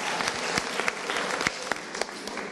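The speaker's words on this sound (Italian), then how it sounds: "un saluto, un applauso al VBC Avis di Casarza Ligure" Brisk applause for the VBC Avis volleyball club of Casarza Ligure at a local sports festival, a steady clatter of clapping with a few sharper individual claps standing out.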